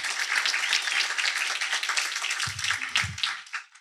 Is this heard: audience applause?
yes